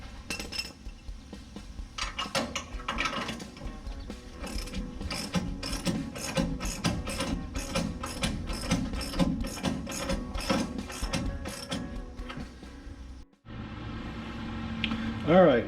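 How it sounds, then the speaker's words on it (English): Ratchet wrench cranking the front torsion bars on a Plymouth Cuda, a steady run of rapid clicking pawl strokes in close-up, broken by a short pause before a final burst of clicks. "I'm gonna jack up the front end and crank up those torsion bars a bit"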